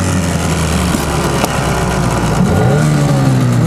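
Two 9.8 hp outboard boat motors, a Stels and a Tohatsu, run together at idle, a steady loud droning hum with a slight rise in pitch near the end as one is throttled up a little.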